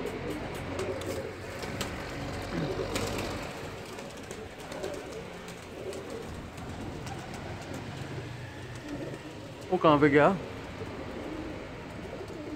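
Pigeons at a loft cooing in short throaty bursts, one clear close coo standing out near the end, over soft background noise while someone speaks briefly.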